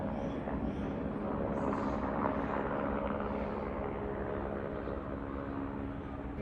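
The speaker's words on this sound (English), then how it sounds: "Sorry, that was a helicopter if you're not watching." A police helicopter hovering overhead gives a steady, broadband rotor and engine drone that stays constant and fairly distant throughout, with no talking.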